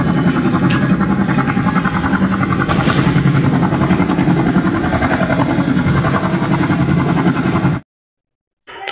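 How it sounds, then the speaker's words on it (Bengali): Amusement park helicopter ride flying nearby, a loud continuous rotor and engine drone that holds steady for about eight seconds before cutting off abruptly. "দেখতেছেন হেলিকপ্টার রাইড করতেছে অনেকেই, কেউ হেলিকপ্টার উড়ে"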